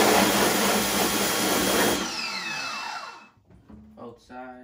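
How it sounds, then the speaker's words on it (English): Fan blowing air onto a screen printing screen, a loud broadband whoosh that winds down after two seconds with descending tones, fading into quieter mechanical clicks and hum. "now I'm gonna just blow the fan on it"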